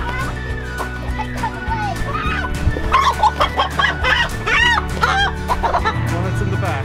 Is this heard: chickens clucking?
yes